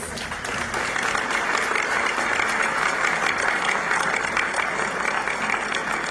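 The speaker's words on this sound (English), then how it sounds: "Let's give them a big round of applause." A large audience at a televised promo launch event applauds steadily, a dense sustained clapping that stays loud and even throughout with a faint crowd murmur beneath.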